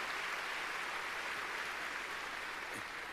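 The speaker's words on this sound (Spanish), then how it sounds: "démosle palmas fuertes a nuestro Señor" A church congregation at an Ebenezer Honduras service claps together, producing a dense, steady wash of applause that holds evenly throughout without any talking.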